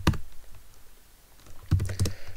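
Two short bursts of quick keystrokes on a computer keyboard, close and crisp, separated by a brief pause, as a password is typed at an Ubuntu terminal.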